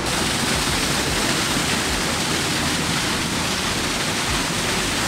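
Moola Chotok, the hidden waterfall in Khuzdar, Balochistan, pours with a loud, steady broadband roar of falling water, continuous and close, with no other sounds.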